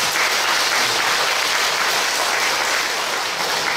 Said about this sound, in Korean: 격려의 박수 다시 한번 드려주십시오.